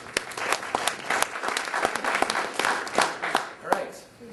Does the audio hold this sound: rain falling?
no